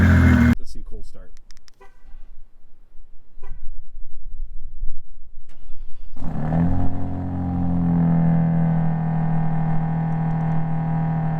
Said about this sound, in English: Let's see cold start.